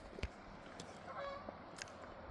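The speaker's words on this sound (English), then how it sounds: "Geese." Geese honking as they fly up the Rogue River through the trees of Siskiyou National Forest, several faint, distant calls with soft outdoor background noise.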